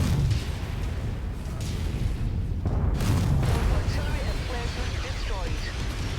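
Heavy, rumbling blasts and booming impacts roll through a MechWarrior 5 battle as an artillery emplacement is destroyed, dense and loud with mechanical clatter and a voice talking over it.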